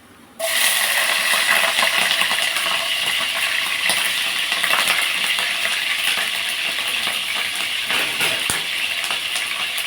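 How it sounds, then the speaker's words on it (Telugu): Onions and green chillies tipped into a hot pan for an elephant foot yam and raw mango curry burst into a loud, close sizzle that starts suddenly and then holds as a steady, dense hiss. "పెండలానికి ఉల్లిపాయలు పచ్చిమిరపాయలు మనం వేసుకుందాం అండి"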